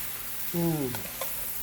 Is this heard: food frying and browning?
yes